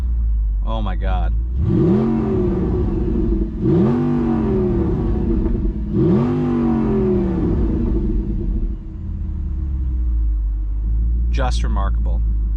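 An Audi R8 sports car engine revs hard through its exhaust in three rising roars, with a deep idling rumble between them and brief voices at the edges.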